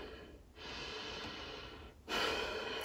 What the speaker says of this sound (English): Guys, take a deep breath with me.